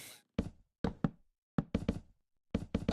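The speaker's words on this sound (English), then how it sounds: "the soul diffuser. That thing is so loud, it's driving me insane" A soul diffuser machine from the Minecraft modpack Vault Hunters runs loudly in an underground base, giving off sharp, dry knocking thuds in uneven clusters of two and three, close and distinct against silence.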